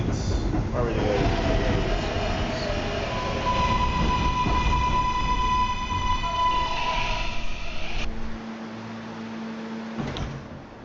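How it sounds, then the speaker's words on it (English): A Q Express subway train in a video game rumbles along steadily, with a rising and falling electric motor whine over the track roar, then slows into quieter running near the end. "This is a Potatoburg bound Q Express train."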